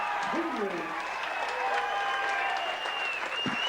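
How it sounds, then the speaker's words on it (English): Crowd cheering and applause after a boxing bout at an event, a dense sustained roar with shouts and whistles rising above, while an announcer's amplified voice carries over the noise. "Come on, a big round of applause."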